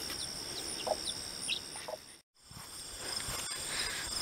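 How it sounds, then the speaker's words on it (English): Mother hen clucking softly with her young chicks in a fall garden, a few brief clucks and peeps over steady insect and cricket hum outdoors, with a short silent gap partway through. "mama hen here hatched some babies, and she's been doing a very good job taking care of them"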